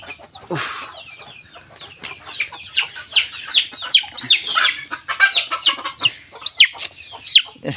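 Chickens clucking repeatedly and close by, a busy run of short calls with a louder burst near the start and steady clucks throughout, no talk.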